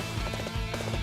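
A horse galloping in the Dynasty Warriors 8 video game, a quick rhythmic run of hoof clip-clops at moderate level with no talk over it.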